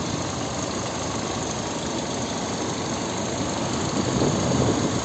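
A 2008 VW Golf V 1.6 MPI petrol engine idles steadily nearby, an even low rumble with a faint mechanical patter, slightly rising toward the end.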